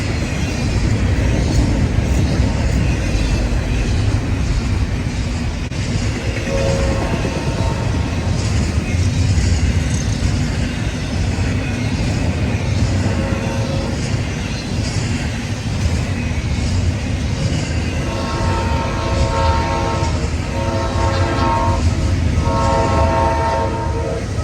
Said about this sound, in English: coming fast is the mighty, world-famous Auto Train